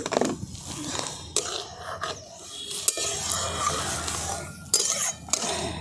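Carrots are stirred in a pot with a quiet, uneven series of spoon scrapes and occasional sharper clinks against the metal, close and soft, with no one talking.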